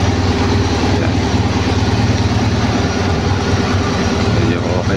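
A car engine idles with its exhaust pipe cut off underneath, giving a steady, loud, rough, low rumble that holds constant throughout with no break.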